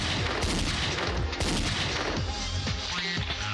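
Rapid video game gunfire crackles nonstop in a dense, loud barrage of overlapping shots and booms over a low rumble.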